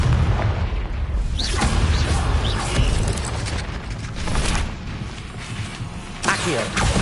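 Confringo fire spell bursts in Hogwarts Legacy on PS5: booming magical blasts and crackling impacts recurring across the clip, loud and close, mixed with game effects and a brief spoken spell name.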